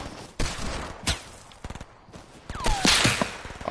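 Video game gunfire: scattered sharp shots and quick bursts, loud and close, with a whizzing sweep and a heavier volley near the end.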